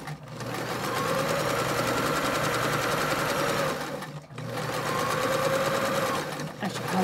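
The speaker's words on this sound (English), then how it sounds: "now I'm going to sew these two, the outer fabric and the inner fabric together" A sewing machine stitches outer and inner face-mask fabric together along a seam, running in two steady rapid bursts of whirring, rattling needle strokes separated by a brief pause, close and alone.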